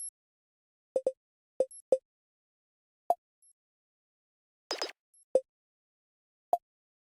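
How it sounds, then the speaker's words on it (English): Sparse percussion samples in an FL Studio new jazz beat: short dry plops and clicks hit in an uneven pattern, with one brief noisy crash-like burst near the end, all close and clean with no voices. "Now here's all of the other percussion noises that are in the beat."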